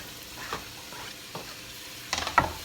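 Chopped onion frying in a little grapeseed oil in a pot gives a low steady sizzle, with a few quick stirring scrapes and a louder clatter of stirring near the end.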